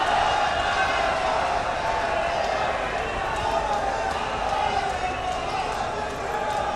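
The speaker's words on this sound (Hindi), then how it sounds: "जोरदार तालियां।" A crowd applauds loudly and steadily at a ceremonial inauguration and foundation stone laying event, the dense clapping filling the whole stretch without a break.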